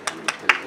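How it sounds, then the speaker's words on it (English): Audience applause thins into a few sharp, separate claps, about four in under a second, spaced unevenly at moderate loudness with no voices. "please a round of applause for him"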